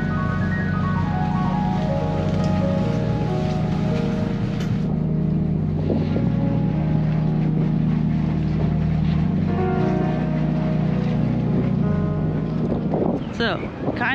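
A boat engine churns in reverse inside a canal lock, a loud steady low throb with tonal hum and wind noise throughout, while people talk over it.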